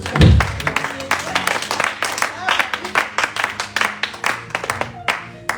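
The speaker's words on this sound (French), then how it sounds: "On acclame pour les saints" A church congregation claps in a quick, uneven rhythm, a burst of individual hand claps close by with a low thump at the start, while someone speaks over it.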